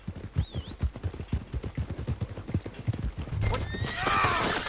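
Horse in Red Dead Redemption 2 clip-clopping at a steady walk near a stable, a run of crisp close hoofbeats followed by a loud drawn-out whinny, with game ambience behind.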